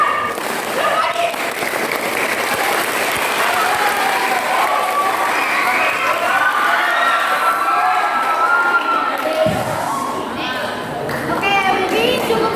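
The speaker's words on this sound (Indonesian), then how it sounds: "Tepuk tangan dulu." Applause from an audience of students in a classroom session, a dense, sustained patter of clapping mixed with cheering and children's shouts and chatter, loud and close throughout.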